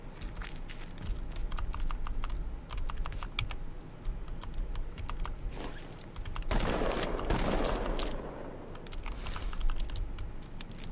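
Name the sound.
gunfire in the video game H1Z1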